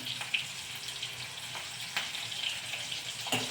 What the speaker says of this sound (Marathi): 2-3 मिरच्या मी चांगल्या भाजून घेतल्या आहेत आणि त्या पण आपण आता तेलामध्ये टाकूया